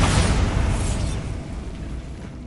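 A Bombarda spell blast in the Hogwarts Legacy video game: one loud, broad explosive boom that rolls into a long rumbling decay over a couple of seconds, with no speech.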